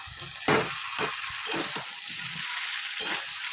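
Vegetables for shukto, salted and frying in a pan, crackle with a steady sizzle broken by several louder scraping strokes as they are stirred.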